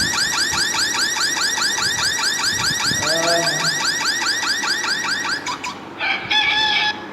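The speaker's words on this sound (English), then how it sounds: "you hear the car alarm once more" A car alarm blares close and loud in a steady, repeating warble, then switches through other siren and chirp patterns, loud throughout with no talking.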